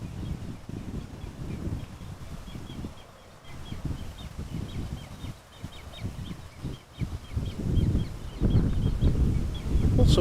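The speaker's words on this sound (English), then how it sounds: "Also hearing birds over there somewhere." Birds call in short repeated chirps from a distance around the grassy airfield of Amsterdam Schiphol Airport, faint over steady wind and low rumbling background noise.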